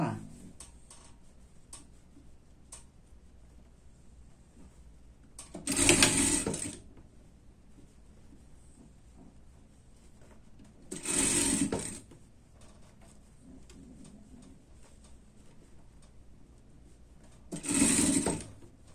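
A sewing machine stitches the side seam of a themed party dress in three short bursts spaced several seconds apart, with quiet fabric handling in between.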